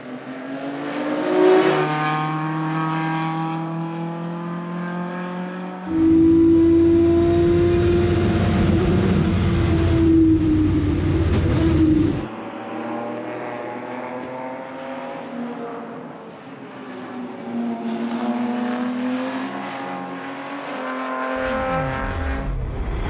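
Endurance race cars from the 1990s and 2000s start a race at Montjuïc, loud engines revving and roaring close by in strong overlapping waves, with a pack thundering past and pitch rising as they accelerate away.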